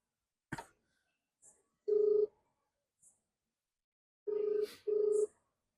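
A mobile phone rings out after a call is dialed: a few short tap beeps, then repeated steady ring tones separated by silence, clear and close.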